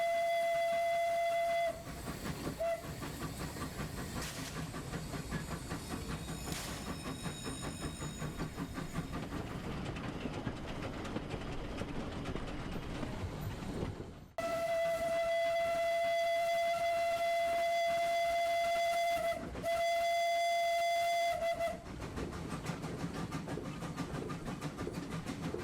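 Transvap steam train running with a loud, sustained whistle that blows for a long stretch, breaks off, then sounds again in several shorter blasts over the steady rumble and clatter of the moving train.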